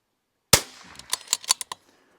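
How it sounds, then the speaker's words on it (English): A .22 rifle fires a single sharp shot toward a target 100 yards away, followed by a few quicker cracking echoes or clicks that trail off within a second. "Let's shoot at, let's say 100 yards here."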